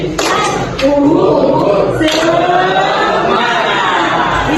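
An audience performs the 'tepuk semangat' clapping chant, many voices chanting together in rhythm with a few sharp claps mixed in, loud and close throughout.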